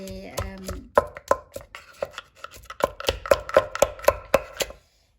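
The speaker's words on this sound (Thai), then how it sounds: "มาทำส้มตำนะคะ มาตำแตงกันค่ะ" Cucumber and garlic are pounded in a mortar for Thai som tam, a quick run of about a dozen sharp, rhythmic close thuds speeding into an even beat before stopping.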